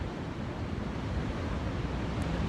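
A steady roar of ocean surf on the coast of Portugal fills the air, broad and constant, with no voices.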